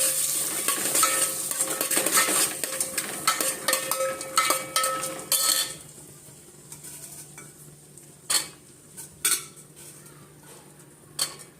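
Beans, carrots and peas roasting in a pan while a spoon stirs them, a loud sizzle with scraping clatter at first, then quieter frying broken by several sharp metallic knocks against the pan.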